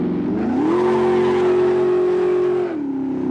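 Engine of a turbocharged race car in a racing video game, loud and steady, pitch climbing as it revs up then holding a sustained high drone before dropping slightly near the end, with no talk.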